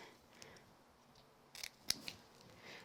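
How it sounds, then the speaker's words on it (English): Scissors snip the edges of card pieces for a monochrome Christmas card. A few quiet, close cuts land in quick succession over a faint room hush. "I'm going to trim this little edge right here on both of these pieces"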